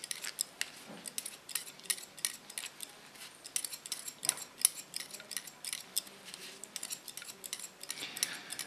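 Sharp, rapid scissor snips in a steady irregular patter while hair is cut using the scissor-over-comb technique on a growing-out pixie cut; close, crisp metallic clicks continue throughout with no talking.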